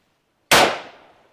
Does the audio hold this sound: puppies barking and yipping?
no